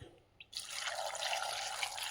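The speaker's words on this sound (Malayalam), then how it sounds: "ഇതൊക്കെ വെള്ളം അങ്ങ് ഒഴിക്കുക" After a brief quiet moment, water pours steadily into a pot of sambar, a continuous close splashing rush.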